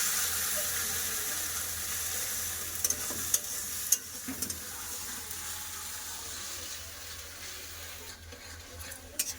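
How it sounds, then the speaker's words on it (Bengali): Spice paste of tomato, green chili, ginger and cumin frying in a pan, giving a broad, fairly quiet hiss with a few light clicks of stirring and no talk. "এবার দিয়ে দেবো বেড রাখা মশলা টমেটো কাঁচা লঙ্কা আদা জিরা আর মশলাটাকে খুব ভালো করে ভেজে নেব"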